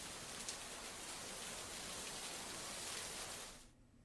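Heavy monsoon rain pours steadily in the Vandana Talkies area of Thane near Mumbai, a dense, even roar of drops across the whole span that drops away abruptly near the end.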